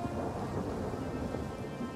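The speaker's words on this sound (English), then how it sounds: "It's raining." Steady rain and rolling thunder from a historical strategy video game, a continuous dense hiss of rainfall with low rumbling underneath, heard alone without talk.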